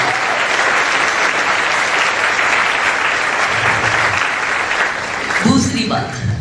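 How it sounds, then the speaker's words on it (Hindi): Loud applause from a crowd at a public rally in Mumbai, steady dense clapping throughout, with a voice coming in near the end. "इसलिए जोरदार तालियां उनके लिए।"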